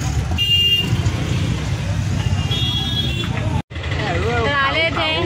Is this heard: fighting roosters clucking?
no